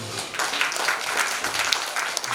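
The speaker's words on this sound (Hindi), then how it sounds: "आप लोगों से चाहूंगा एक बार जोरदार ताली से" An audience applauds at a theatre play's opening ceremony after a lamp is lit, a brief steady burst of clapping with a few sharper claps standing out.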